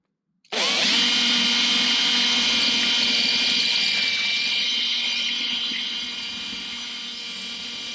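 A power drill whines steadily at close range, starting abruptly and running continuously, its pitch dropping slightly as it bites deeper.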